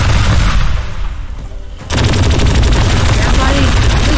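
Electric artillery firing from a giant robot tank in the destruction game Teardown, loud continuous blasting and crackling rapid fire that cuts out briefly, then resumes at full force.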